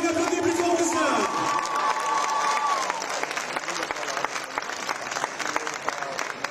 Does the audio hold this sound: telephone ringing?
no